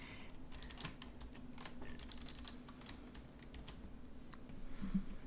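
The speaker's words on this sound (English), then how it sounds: "So let me move that cursor so you can see what I'm typing." Steady typing on a computer keyboard, a continuous run of quick, close clicky keystrokes with uneven rhythm over a low constant hum, no voices.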